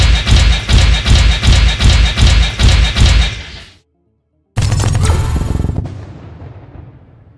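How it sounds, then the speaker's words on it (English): Centurion mech weapons fire in the PixelMek game while a Bushwacker mech is being built: about eight loud, rapid rhythmic bursts, a brief silence, then one sustained heavy blast that fades away. "So if I fired a weapon, you'll just see Centurion weapons fire out."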